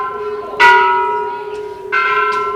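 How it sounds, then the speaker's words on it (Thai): At a Thai Buddhist temple during the Yi Peng lantern festival, a metal bell is struck twice, each strike a bright ringing clang that decays slowly over a steady hum. "มีคนมาตีะระฆังนะคะ"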